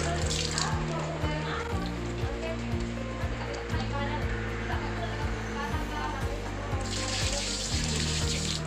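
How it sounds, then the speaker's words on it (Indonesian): Running tap water splashes steadily into a sink as hands are washed, with faint rinsing sounds, fairly quiet, while a low steady tone hums underneath. "kita mencuci tangan di bawah air mengalir"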